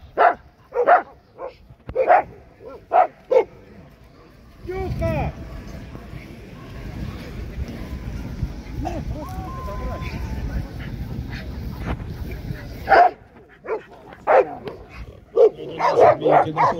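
Dogs at an outdoor hunting dog show barking in short bursts at close range, with a stretch of crowd noise and a voice over a loudspeaker in the middle before the barks resume.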